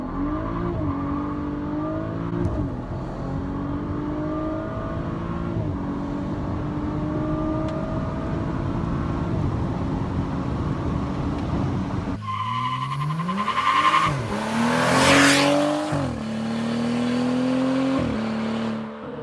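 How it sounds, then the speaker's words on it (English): A BMW F30 335i with catless downpipe and muffler delete revs on launch control, then launches hard with a loud tire squeal, the engine rising through gears; heard from inside the car without talk. "And now we'll try another launch."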